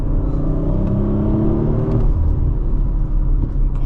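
An Audi RS5 Competition Plus engine accelerating hard, a loud, close, steady rumbling growl that rises in pitch and then settles, with no talking.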